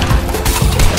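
Gunfire from the Fortnite video game, a loud, dense burst of close shots and impacts filling a single second, with no voices.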